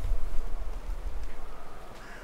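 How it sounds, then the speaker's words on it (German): A crow caws in a forest, a rough, somewhat distant call rising over a steady low rumble of wind or handling noise, with no talking heard. "War ein Vogel."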